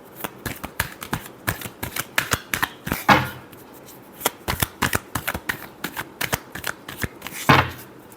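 Tarot cards being shuffled by hand, a quick rhythmic series of crisp riffling slaps and flutters close to the listener, with no talk.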